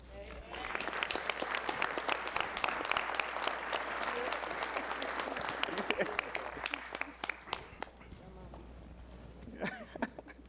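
An audience at a Meharry Medical College Circle of Friends event applauds for students: dense, sustained clapping with scattered louder claps, fading toward the end.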